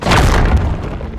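A loud, close explosion from the Deep Rock Galactic game bursts in sharply, then a heavy, rumbling boom rolls on and slowly fades.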